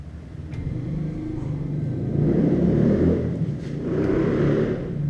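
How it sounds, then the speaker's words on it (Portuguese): A motorcycle engine rumbles and revs nearby, swelling louder then fading slightly as it pulls away. "Barulho de moto."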